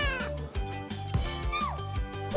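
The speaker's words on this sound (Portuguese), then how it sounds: "Oh, a gatinha" A cat meowing repeatedly in a busy café setting, with bright drawn-out mewing cries layered over background music, close and continuous.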